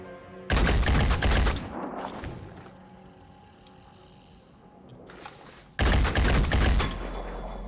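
Two loud bursts of rapid gunfire from the video game Phoenix Point, each a second or so of dense automatic shots, separated by a quieter stretch of low rumble and game ambience, with no talking.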